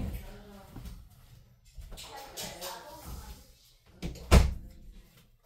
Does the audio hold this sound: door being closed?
yes